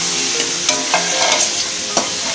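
Pre-fried potatoes tipped into a hot pan of frying spices, a bright continuous sizzle with a few scraping stirs of the spatula, close and loud throughout.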